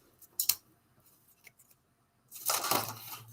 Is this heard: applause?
no